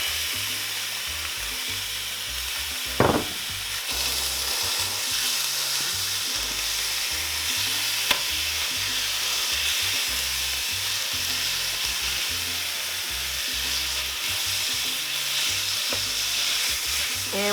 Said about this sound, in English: I am going to be cooking my beef in a black cast iron skillet